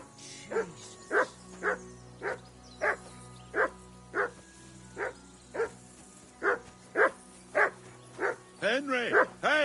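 A dog in Kingdom Come: Deliverance 2 barks repeatedly in a steady rhythm, about a dozen sharp barks spaced under a second apart, ending in a quicker run of yelps.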